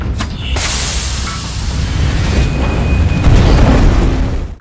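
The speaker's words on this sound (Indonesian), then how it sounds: "Claire meledakkan sebuah gerobak pedagang jalanan untuk mengacaukan para penjaga Rand Enterprise" A street vendor's cart blows up in an action scene, giving a loud, sustained roaring blast with crackling debris noise that stays dense and heavy for several seconds.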